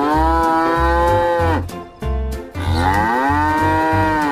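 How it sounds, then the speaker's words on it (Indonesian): A colorful toy cow gives repeated electronic moos: drawn-out, loud and close, with a brief pause between calls over a rhythmic low pulse. "Ada sapi."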